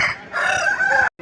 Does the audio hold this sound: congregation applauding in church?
no